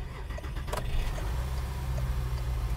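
A car with its key on the left side starts up: a brief grinding crank and squeal near the start, then the engine catches and settles into a steady low idle close by.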